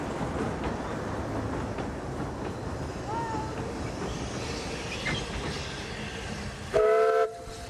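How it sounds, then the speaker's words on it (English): A Simplex diesel locomotive, a small 20 to 28 horsepower Motor Rail design from the Second World War, runs on rails with a steady low mechanical rumble, faint brief whistle-like tones, and a louder tonal burst near the end. "Simplex locomotives are extremely basic, but the early design was incredibly successful"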